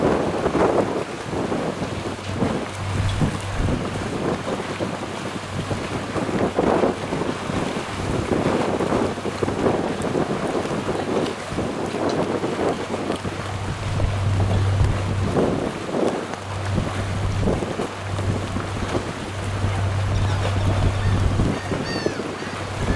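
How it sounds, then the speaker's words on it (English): Outdoors on Charleston Harbor, the Bering Dawn shoves a maintenance tug, heard as a continuous low engine rumble mixed with water wash and heavy wind buffeting the microphone, steady throughout without talk. "the Bering Dawn was shoving a maintenance tug through the harbor"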